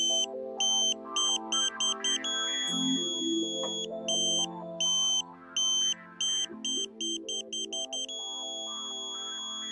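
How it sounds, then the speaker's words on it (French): The pointing tone of a Tooway KA-SAT satellite antenna on a mid pole: loud electronic beeps pulse rapidly and jump between pitches, then settle into one unbroken steady tone at the end. "vérifiez également que la tonalité continue"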